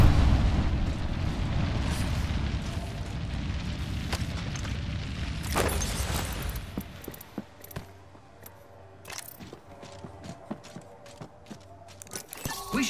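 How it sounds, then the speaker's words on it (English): A thermite grenade in the Apex Legends video game roars as a loud, dense burning blast for several seconds, then fades into a quieter crackle broken by sharp pops and game effects. "Throwing thermite grenade."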